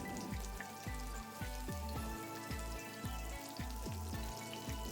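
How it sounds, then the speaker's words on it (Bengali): Chopped garlic and green chili frying in hot mustard oil give a steady, close sizzle and crackle, with a soft low thump repeating at an even pace underneath. "তেল গরম হলে তেলের মধ্যে দিয়ে দেবো আগে থেকে কেটে রাখা রসুন কুচি লঙ্কা কুচি"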